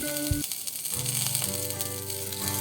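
A handful of fresh curry leaves dry roasts in a hot pan with no oil, giving a steady soft crackle and sizzle close by, with a few brief tonal clinks near the start.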